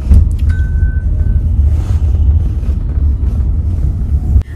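A family car cruises toward a temple, giving a steady low rumble of engine and road noise heard from inside the cabin, constant and fairly loud, with a brief high tone early on.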